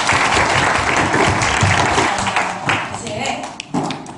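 Children applaud together at a school anniversary worship service, a dense, steady wash of clapping from a large group of about a hundred kids that tapers slightly toward the end, with some voices mixed in.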